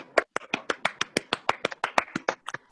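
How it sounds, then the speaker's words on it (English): Quiet, crisp claps from a single pair of hands or a very small group at a virtual annual sports day, about fifteen distinct slaps in a fairly even rhythm honouring an athlete. No voices are heard. "Can we have a huge round of applause for her?"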